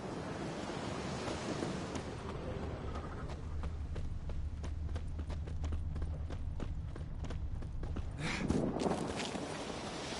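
Hooves of Scorpion, a purebred Kedweni warhorse, clip-clop in The Witcher 3 on PS5, sounding as a steady run of sharp, evenly spaced knocks over a constant wash of wind and surf, with a louder swell near the end.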